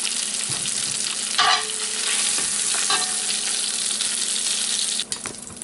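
Vegetables go into a hot pot for jambalaya and fry with a steady crackling sizzle, close and fairly loud, broken by a few scraping stirs and clanks of a utensil against the pot.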